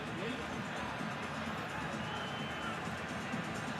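Stadium crowd at a CFL West Final between the BC Lions and Calgary Stampeders, a dense, steady roar of many voices swelling with excitement, loud and continuous throughout.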